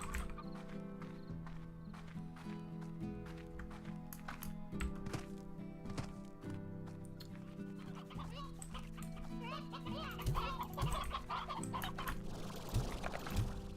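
Chickens cluck and chatter repeatedly over continuous background music from the video game Slime Rancher, moderately loud and close, with no one speaking.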